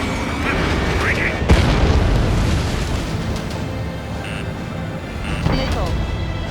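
Explosion of a destroyed target during an Ace Combat 7 air battle, a dull boom rising out of a dense roar of jet engine and combat noise, with a second, smaller burst a few seconds later.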